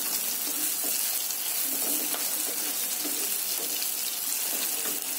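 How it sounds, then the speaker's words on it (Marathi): Radish hitting a pan of fried onion and tomato sets off a steady, even sizzle that runs unbroken and fairly close, with faint scattered crackles throughout and no talking. "आपण त्याच्यावर हा मुळा टाकते आहे"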